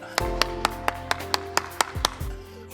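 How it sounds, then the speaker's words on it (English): Small audience applauding: a sparse run of about ten sharp, distinct claps at a quick, slightly uneven pace, close and fairly quiet with background hum. "Ladies and gentlemen, a round of applause for Therapist Benny and Ella."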